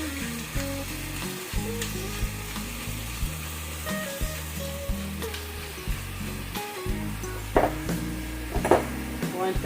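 Meat and peppers frying in a pan, a steady sizzling crackle close by with occasional clinks and stirring sounds under a faint background hum.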